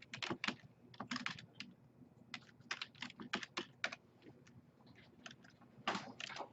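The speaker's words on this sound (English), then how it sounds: "I'm going to do a Control S to save it as customer report." Computer keyboard keys clatter in a quick, irregular burst of typing, with crisp close-up clicks and short pauses between clusters of strokes, including a Control S save shortcut.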